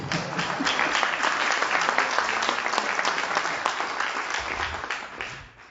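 Applause from a seated audience at a book presentation, dense, steady clapping throughout that tapers off slightly at the end.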